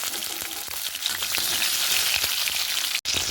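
Whole cumin seeds, chopped tomatoes and slit green chillies frying in hot oil, a steady dense sizzle with crackles and pops throughout, close and fairly loud, with a brief break near the end.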